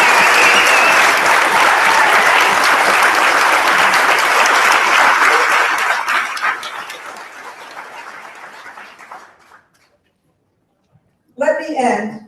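Loud, dense applause from a large crowd at a candidacy announcement for First Selectman in Trumbull, Connecticut, holding strong before gradually fading out; after a brief silence, a voice begins speaking.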